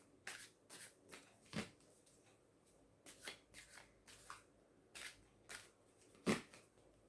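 Tarot cards being shuffled and drawn from a deck: a run of quick, close papery riffles and snaps arriving in uneven bursts, with one sharper louder flick near the end, over a quiet room.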